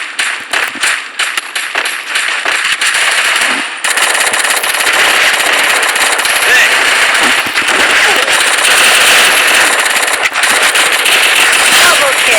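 Rapid gunfire from an AWM sniper rifle in a mobile battle-royale video game, loud sharp shots at first, then a dense continuous barrage of game audio filling the rest.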